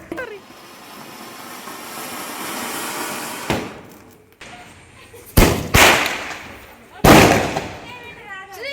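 Diwali firecrackers go off during a family celebration: after a hissing buildup, several sharp loud bangs burst at close range, separated by brief crackling decays, with voices faintly in the background.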